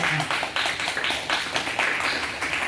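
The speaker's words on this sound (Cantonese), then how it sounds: "大家俾啲掌聲啊" An audience applauds at an event, a steady patter of many hands clapping at close range, with brief louder bursts throughout.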